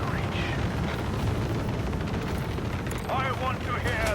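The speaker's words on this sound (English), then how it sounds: "Show them the fury of our macro cannon." In Warhammer 40k Rogue Trader, a starship's macro cannon fires, giving a dense, booming rumble that stays heavy and continuous for a few seconds with a short crackling swell near the end.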